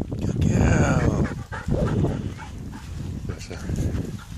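A pet dog close by yips, whimpers and barks in short excited bursts, mixed with panting, while a person talks over it.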